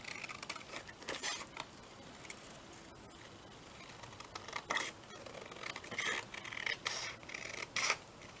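Quiet scissors snipping out paper pieces for a vintage shabby-style journal, a close series of soft crisp snips and light paper rustles at an uneven pace, with no talking.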